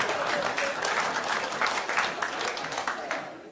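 Cabaret audience applauding steadily, a dense wash of many hands clapping that stays loud and even throughout without any talk over it.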